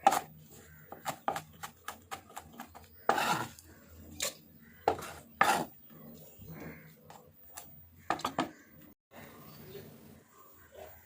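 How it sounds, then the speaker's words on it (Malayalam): A knife chops tathuthama spinach leaves finely on a board: sharp, close taps come in quick irregular runs with short pauses in between, set against a quiet kitchen background. "ചെറുതായിട്ട് ചീര അരിഞ്ഞെടുക്കാം"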